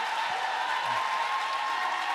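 Audience applause at a French comedy show, steady and fairly faint, spread evenly across the crowd with no talk over it.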